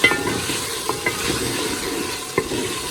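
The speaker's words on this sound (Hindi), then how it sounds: "मसाले के साथ अच्छी तरह इसकी बुनाई करेंगे।" Vegetables stir-fried with masala in a pan after tomatoes have softened, giving a steady close sizzle with scraping stirs and a few sharper clinks of a spoon against the pan, with no talking.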